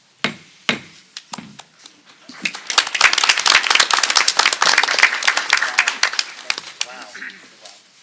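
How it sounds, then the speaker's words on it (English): An audience at a Sayreville school board meeting claps after the superintendent's report is approved, starting with a few scattered claps and then swelling into sustained applause from a small crowd in a room before tapering off. "That's the first time anyone's ever clapped for the approval of the superintendent's report."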